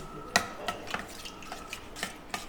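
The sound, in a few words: stirring curry in a pot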